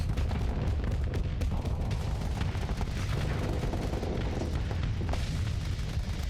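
Loud, dense explosions and booms from a Reaper torpedo striking a ship in the space combat game Starsector, a continuous barrage of impacts and blasts with no quiet gaps.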